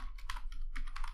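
Keystrokes on a computer keyboard while coding in Android Studio, a quick run of several soft clicks in steady rhythm, close and alone with no talk.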